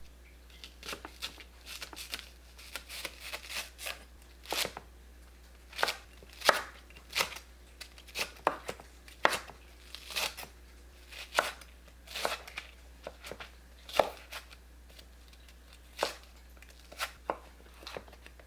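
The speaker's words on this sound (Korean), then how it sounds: "미나리와 파를 10cm 길이로 자릅니다." Knife chopping water dropwort and green onions on a cutting board, a close series of crisp irregular thumps and cuts repeating steadily with short pauses, no talking.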